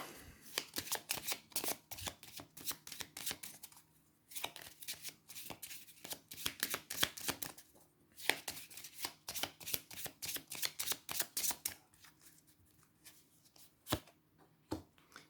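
Oracle cards shuffled by hand in steady bursts of crisp, close riffling slaps, pausing briefly between rounds before resuming, then a few isolated card taps at the end; quiet and free of talk.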